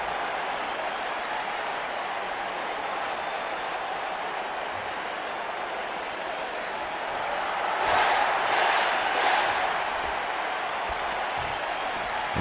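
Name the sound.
crowd cheering in WWE 2K video game arena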